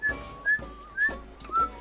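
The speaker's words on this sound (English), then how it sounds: "I'm trying to whistle." Someone whistles in Sea of Thieves voice chat: four short, bright whistled notes in a steady rhythm roughly half a second apart, close and fairly clear, with faint breathy noise in the gaps.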